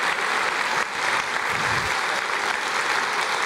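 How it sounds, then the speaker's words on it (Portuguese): A church congregation applauding in a steady, continuous wash of dense clapping, fairly loud and close, with no break throughout. "Aplauda mais, aplauda mais."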